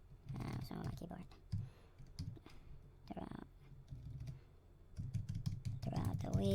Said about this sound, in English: what's wrong with my keyboard